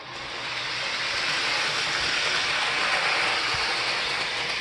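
A model train runs laps around its track in a continuous, even rolling rush with faint rail clatter, steady and fairly loud throughout with no voices.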